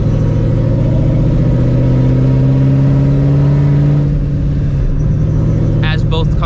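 A supercharged 4.6-liter 2V Mustang GT engine revs hard and loud alongside a second car, a dense, steady mid-range roar with rising harmonic whine that holds for several seconds before easing slightly near the end.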